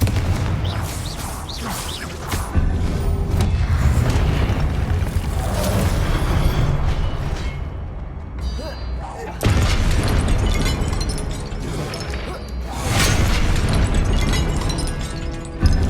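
Fire spell explosions from the game Hogwarts Legacy burst out in repeated heavy booms with rumbling tails, loud and close among other game effects, while a voice speaks over them.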